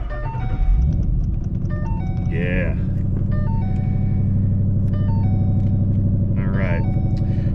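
A VMP supercharged 2013 Mustang GT engine cranks and starts, then holds a deep, loud idle rumble while a melodic chime plays over it and a voice briefly speaks.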